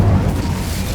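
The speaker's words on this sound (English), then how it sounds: "Incendio." The Incendio fire spell cast in Hogwarts Legacy, a brief, loud, low whooshing boom that fades over about a second.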